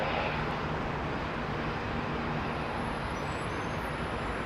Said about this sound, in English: This is last few aircraft going out now.